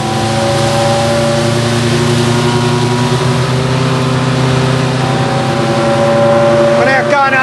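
A classic truck with a 6.5 litre Rolls-Royce engine roars steadily as it cruises at speed along a straight road, its droning tones holding strong and close, with a brief rising sweep near the end.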